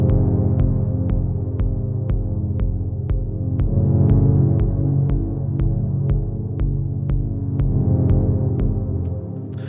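Basic four-on-the-floor kick pattern from Ableton's 808 Core Kit, steady evenly spaced booming thumps with crisp ticks on top, layered over a sustained swelling synth pad that pumps slightly with each beat, loud and alone.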